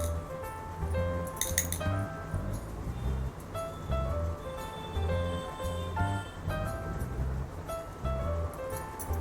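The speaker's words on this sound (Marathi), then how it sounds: "आता आपल्याला पाच मोती घ्यायचे आहेत" Small beads clink and tick lightly against one another as five are picked up for beadwork, a close, soft, scattered clatter with occasional brighter taps.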